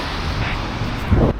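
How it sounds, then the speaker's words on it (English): Strong gusts buffet an outdoor microphone on a windy roadside, a steady low roar with heavier thumps near the end and no voices. "windy, very much."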